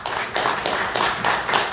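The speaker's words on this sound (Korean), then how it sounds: "큰 박수로 청해 듣겠습니다." Audience applause at an international forum on fair elections, welcoming a computer engineer to the stage: dense, steady clapping from a crowd throughout, fairly loud and even, with no voices over it.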